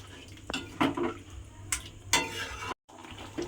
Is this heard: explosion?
no